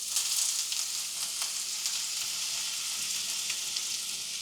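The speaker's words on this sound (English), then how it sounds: "And let it caramelize them in the bacon grease." Onions frying in hot bacon grease in a pan, a dense, steady, fairly loud sizzle heard up close that continues throughout with faint crackles and no talking.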